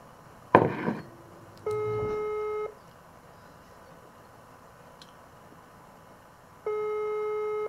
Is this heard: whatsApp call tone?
yes